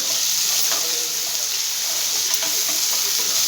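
Ginger garlic paste sizzles loudly and continuously in hot oil in a pan on the stove, with a dense, even hiss and light stirring throughout and no talk.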